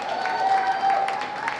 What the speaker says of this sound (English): A round of applause for Face Africa, please.